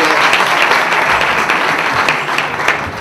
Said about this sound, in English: Another round of applause for these great guests.